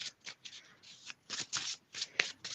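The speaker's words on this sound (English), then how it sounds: "Hold on, let me shuffle." A deck of tarot cards being shuffled by hand in a quiet room, a run of crisp riffling bursts in quick succession with short pauses between them, close and clear.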